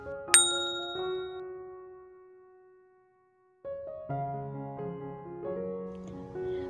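A bright bell ding rings out once and slowly fades, followed after a short pause by a few soft chiming tones.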